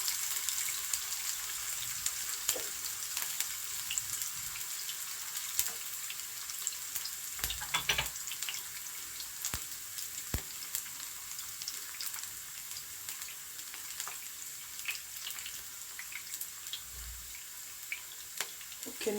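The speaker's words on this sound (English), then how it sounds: "I will allow it to fry for 1 minute" A tomato stew base frying in a pot, a steady soft sizzle with a few faint clicks and stirs, close by and with no talk.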